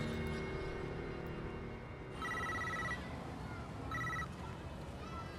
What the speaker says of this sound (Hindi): गनी, हाँ खान को फोन लगाओ।